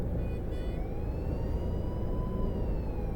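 In the Fernbus Coach Simulator driving game, a police siren sounds faintly in the distance with a thin, slowly sweeping wail over a steady low engine and road drone.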